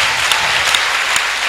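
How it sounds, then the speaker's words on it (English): A church congregation claps together, a dense, loud burst of steady applause with a few sharper individual claps standing out. "Let's clap for Jesus for that"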